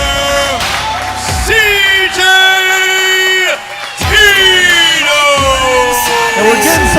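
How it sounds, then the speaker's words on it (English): A wrestling crowd roars right after a match ends, with loud whoops, yells and drawn-out cheers rising and falling in waves close by. "And we're getting some applause, standing ovation from this crowd."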